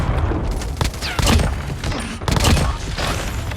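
Bursts of automatic fire from an FSS gun in a shooter video game, loud and close, with rapid rattling volleys, booming impacts and brief gaps between strings of shots.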